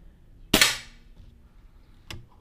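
One sharp, close crack of a Boito Urutu 5.5mm air rifle firing a 21-grain EDM slug at 10 m, followed by a fainter metallic impact snap on the target a moment later.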